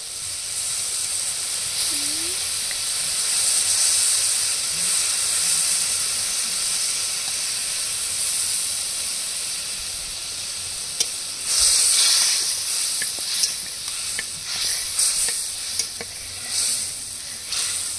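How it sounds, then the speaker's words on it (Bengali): Spices with sour curd, cumin and ginger paste sautéing in a pan make a loud steady sizzle and hiss, with clinking spatula strokes growing more frequent toward the end. "এবার মশলাগুলো খুব সুন্দর করে কষিয়ে নেব"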